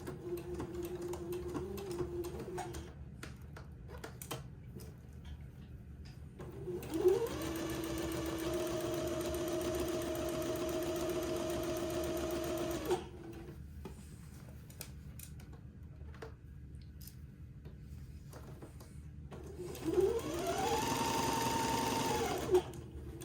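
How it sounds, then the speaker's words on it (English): A sewing machine runs red thread through a 1/4 inch seam along the bottom edge of plaid fabric for button-on bloomers, in two steady whirring bursts of several seconds each, close and clear with no talk. "I'm going to sew along this bottom edge with a 1/4 inch seam allowance"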